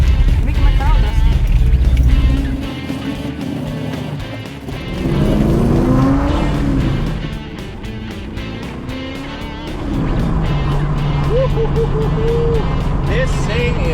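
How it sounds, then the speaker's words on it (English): A restored car's engine roars loudly while being driven, with surges rising and falling as it accelerates, and excited talk over the engine noise throughout. "It's not even a purr, it was just a full-on roar."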